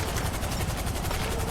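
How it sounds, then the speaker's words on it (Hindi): A helicopter in GTA 5 during a mansion attack gives a steady, dense rotor roar with rapid chopping pulses, continuous and fairly loud throughout. "कि हेलीकॉप्टर की आवाज कहां से आ रही है?"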